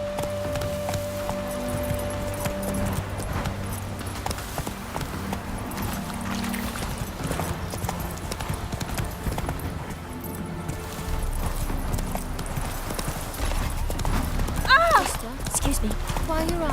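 Roach, a horse in The Witcher 3 video game on Skellige, trots with steady hoofbeats under continuous game music and ambience, while a voice speaks over it.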